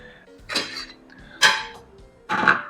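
A small paring knife cuts the cores out of soft fresh tomatoes for sauce, making three separate knocks and scrapes against a board or dish, spaced about a second apart, with quiet in between.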